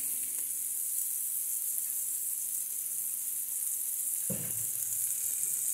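Steady hiss of palm oil (dendê) sizzling in a hot pan, with a brief clunk of a utensil near the end.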